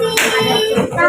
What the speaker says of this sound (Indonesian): Kita tepuk tangan atas hasil karya kalian